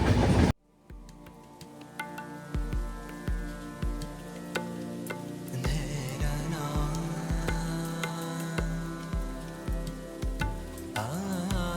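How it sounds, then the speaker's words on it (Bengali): Mandovi Express train pulling into Karmali station, with steady rhythmic clickety-clack of wheels over rail joints under a continuous rumbling hum, close and fairly loud throughout. "ঢুকে গেল ট্রেন তার প্রথম স্টপেজ কারমালি"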